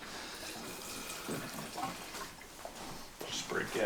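Gasoline poured into the tank of a Honda XR400 motorcycle, a steady liquid splash and gurgle running for a few seconds against faint background noise.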